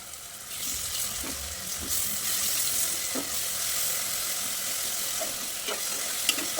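Ginger, garlic and green chilli paste frying for a dhaba-style paneer curry, a loud continuous hiss of oil with occasional scrapes of the spoon as it is stirred.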